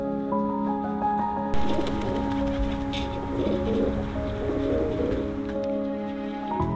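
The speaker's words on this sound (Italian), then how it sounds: "Sono arrivati i piccioni." Pigeons coo repeatedly outdoors near old farm buildings among tree branches, their low rolling calls close and clear over a steady background hiss, with a brief rustle partway through.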